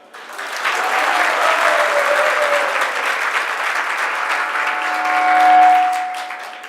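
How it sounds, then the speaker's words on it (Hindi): Sustained audience applause at an evening spiritual lecture in Vrindavan, a dense steady wash of many hands clapping that swells near the end before easing, with no talk over it. "बजाओ, ताली बजाओ।"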